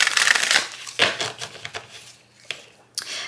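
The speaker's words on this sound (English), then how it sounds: "I am able to riffle shuffle them" Glossy-cardstock oracle cards being riffle shuffled up close, a dense rustling burst of flicking card edges early on, then a few sharp taps and soft clicks as the deck is squared, with no talking.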